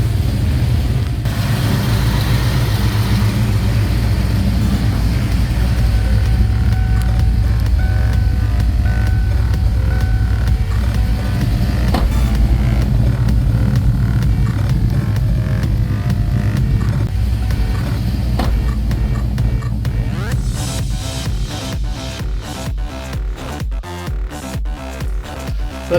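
A 1995 Mustang with a 351 engine idles steadily after its chip is reinstalled, a loud, even low rumble holding for the full stretch, with a few faint clicks near the end and no talk.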